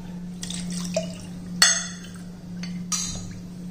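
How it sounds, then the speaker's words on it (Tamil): Rice-soaking water is tipped into a cooking pan in a few short splashes and drips with faint clinks, set against a steady low kitchen hum; no one talks. "இந்த தண்ணி இதில் ஊற்றிக்கிறோம்."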